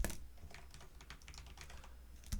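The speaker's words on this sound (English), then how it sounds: "I'm going to start typing these ones" Rapid, irregular keystrokes on a computer keyboard during a geometry lesson, a steady stream of close clicks with no talking.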